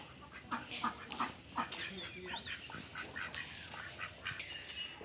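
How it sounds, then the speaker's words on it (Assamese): A small group of ducks quacks in rapid, repeated bursts, soft and a little distant, the calls overlapping in an uneven rhythm. "আৰু এইকেইটা হাঁহকেইটা"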